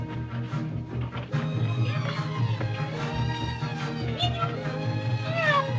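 A cat named Minou meows repeatedly, with several rising, wavering cries heard over a steady low hum and background orchestral music from a 1935 film.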